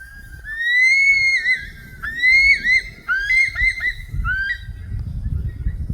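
Bush stone-curlews call at dusk in Kuranda with long, rising, wailing whistles, several birds overlapping in repeated eerie cries that carry clearly over low background rumble.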